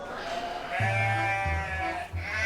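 Sheep at a livestock market bleat in a couple of close, loud, wavering calls, one after another over a low background murmur.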